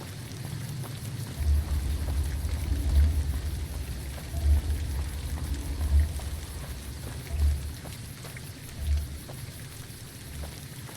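Steady rain falling in Fallout New Vegas, a continuous soft hiss of drops with low rumbling swells at regular intervals, even and unbroken, with no voices.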